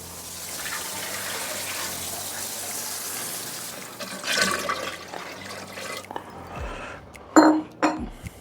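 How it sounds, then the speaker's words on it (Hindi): Water pours steadily and noisily into a pot of goat trotter curry for several seconds, followed by a few close metallic clanks and scrapes of cookware. "अब हम इसमें डालते हैं पानी।"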